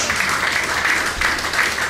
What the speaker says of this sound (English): Let's get a big round of applause for all of our volunteers.